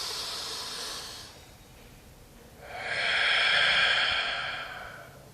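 A deep breathing demonstration: a long, airy inhale followed by a stronger, louder exhale, both close to the microphone and alone without talking.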